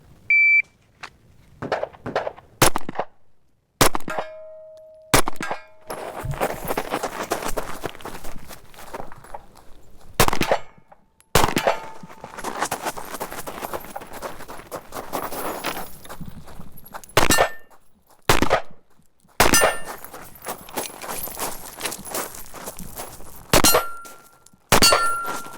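A micro 9mm pistol fires quick strings of shots at steel targets on a stage run from 25 to 15 to 10 yards. Sharp cracks are followed by ringing metallic clangs, with pauses for moving and a reload between bursts.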